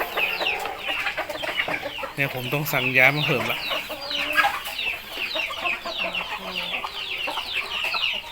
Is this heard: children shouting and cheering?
no